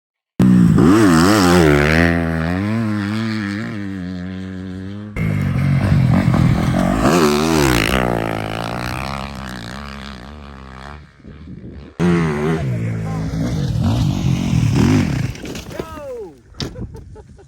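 A dirt bike on a veterans' motocross practice track revs and roars close by, its engine pitch climbing and falling through repeated throttle bursts with brief drops between runs.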